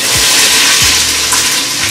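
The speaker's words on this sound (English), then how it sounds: "Hear that sizzle?" Loud, rushing sizzle of white onions and garlic hitting hot oil, a full broadband hiss close up, with a few low thumps underneath.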